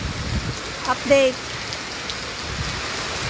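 Steady rain falls throughout, a soft constant hiss with a brief louder clatter partway through; a voice speaks faintly.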